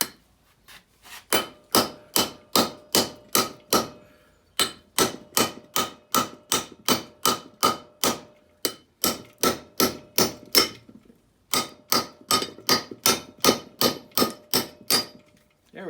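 Hammer blows strike metal parts resting on a wooden pounding stump used in place of a workbench while a Land Rover is prepared, sharp regular hits in three quick bursts of about eight to ten, close and loud.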